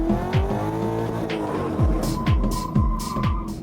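Car with its rear tires locking up under handbrake, heard as a loud engine with repeated downward-sweeping revs and a rising tire squeal, close and continuous.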